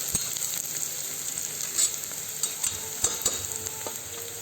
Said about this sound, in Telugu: గోల్డెన్ బ్రౌన్గా వచ్చేటప్పుడు వచ్చేంత వరకు కొంచెం కలుపుతూ ఉండాలండి